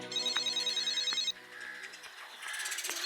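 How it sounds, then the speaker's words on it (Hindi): A telephone rings in a Hindi-dubbed action film, a loud, warbling electronic ringtone in repeated bursts that stops partway and gives way to quieter background sounds. "धत तेरी की, ये फोन कितना बज रहा है?"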